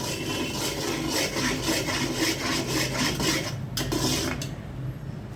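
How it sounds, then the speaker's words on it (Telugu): A spoon scrapes and rubs steadily around a pan of thick melting jaggery, a continuous close gritty stirring that keeps the syrup from sticking, with a couple of sharper knocks near the end. "ఇట్లా కలుపుకుంటూ ఉండాలి అడుగంటకూడదు బెల్లము అడుగంటకూడదు"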